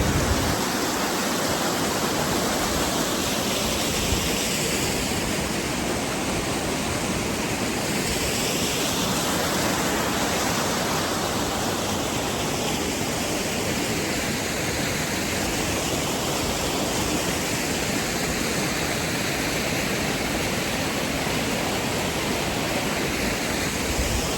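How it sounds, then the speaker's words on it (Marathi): A waterfall in Wales roars from right beside it, a dense, unbroken rush of falling water filling the whole scene at steady, loud level with no voices. "या ठिकाणी एक्झॅक्टली वॉटरफॉलच्या बाजूला बसलो आहे मधोमध."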